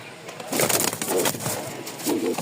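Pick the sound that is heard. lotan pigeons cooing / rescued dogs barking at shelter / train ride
lotan pigeons cooing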